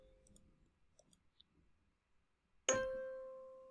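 A kalimba sample from the Klang tuned-percussion rack device in Reason rings out as one bright plucked tine that sustains and slowly decays, after a few soft faint clicks.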